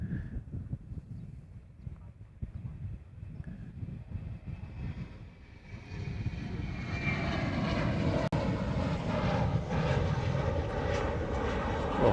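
Boeing 717 airliner departing Honolulu airport, a distant jet rumble under light background noise that swells into a loud, broadband engine roar as the aircraft powers up and passes.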